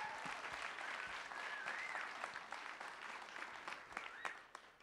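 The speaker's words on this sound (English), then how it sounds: "Can we have a round of applause for all 10?" Steady, dense audience applause at a startup pitch event fills the whole stretch, moderately loud and even, with scattered louder claps and a faint whistle or two mixed in.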